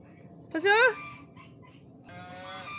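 Ducks near a village fishing spot give one loud, honking quack that rises and falls, close to the microphone, followed by quieter background sounds and a voice.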